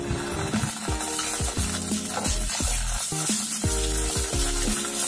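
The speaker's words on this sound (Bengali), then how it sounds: "তেলে নেড়ে আদার কাঁচা গন্ধটা দূর করে নেব।" Ginger paste and crushed garlic sizzle in hot oil in a kadai as a spatula stirs and scrapes in a quick rhythm of repeated scraping strokes, close and steady, without speech.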